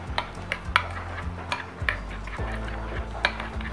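A spoon clinks against a bowl while sauce for loaded fries is stirred, with repeated light scraping taps at an uneven rhythm and a soft hum underneath.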